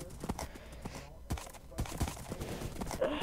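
Rapid clip-clop of horse hooves galloping in the Minecraft Hypixel horse race game, a steady rhythmic patter of hoofbeats close up throughout, with no talk over it.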